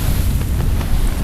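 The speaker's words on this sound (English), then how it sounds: "Wind's about 20, maybe gust to 25." Strong wind of about 20 knots gusting to 25 roars across a sailboat close reaching at sea under staysail and double-reefed main, a loud constant rushing with no voices.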